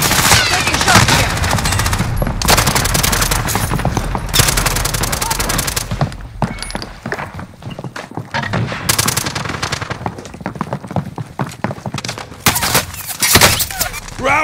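Sustained gunfire in the Warzone video game on Rebirth Island, loud and dense, with rapid automatic bursts and crackling shots packed tightly together throughout, briefly thinning before picking up again.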